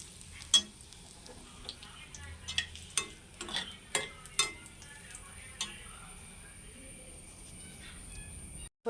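Onions and curry leaves frying in a pan for a biryani masala give a faint, low sizzle, broken by scattered sharp clicks and scrapes of stirring.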